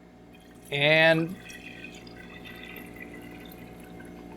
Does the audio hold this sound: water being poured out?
yes